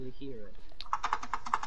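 Rapid clicking of a computer keyboard and mouse during a game of Fortnite, a quick steady run of sharp keystrokes close by that starts right after a brief stretch of someone talking.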